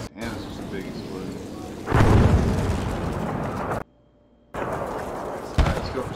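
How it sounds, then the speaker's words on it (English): A heavy explosion in Battlefield V booms and rumbles out, followed by a brief silence and then more crackling blast noise. "Damn, this is a big explosion."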